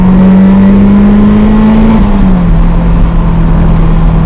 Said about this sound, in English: the VTEC crossover in this is definitely noticeable